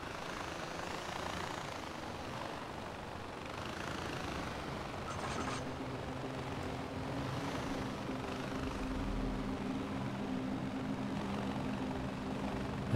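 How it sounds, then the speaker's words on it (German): Helicopter flying in the Far Cry 4 video game, a steady whirring rotor and engine drone holding at moderate level throughout, with a low hum layered beneath. "gut, dass wir mit dem Heli auch gerade da sind."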